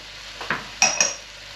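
Salted onions for French onion soup stirred in a pot, a few quick spoon scrapes and light metallic clinks over a soft background sizzle, close and brief with no talk.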